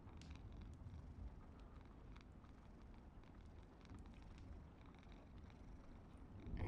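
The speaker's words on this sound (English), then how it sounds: "she's purring." A cat purrs close by in a soft, continuous low rumble, quiet and steady throughout.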